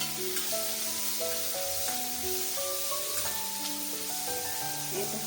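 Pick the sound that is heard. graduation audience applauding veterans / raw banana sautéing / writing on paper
raw banana sautéing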